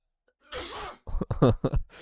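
A single sharp sneeze bursts out, followed by a few short breathy gasps or sniffles right afterward, close and fairly loud.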